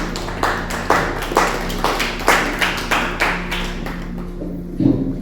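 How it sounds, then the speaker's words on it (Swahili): A congregation claps hands together at a Swahili church service, a steady rhythmic beat of roughly two claps per second that stays loud and close and holds its pace throughout. "Basi tuache tupige makofi kwa ajili yake."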